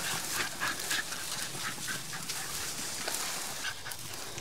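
Hunting dogs on a black bear hunt whimper, pant and give short yelps close by, in a restless, continuous stream over background noise.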